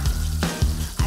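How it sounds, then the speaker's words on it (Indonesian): Small quail frying in hot cooking oil, a steady broadband sizzle with low bubbling bursts recurring roughly every half second, close and fairly loud with no voices. "Langsung aja yuk kita cemplungin ke minyak goreng yang sudah panas"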